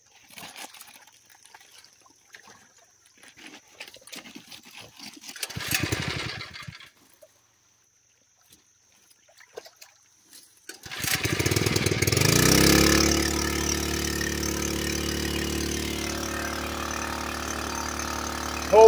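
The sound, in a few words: one-inch gold dredge engine starting up and running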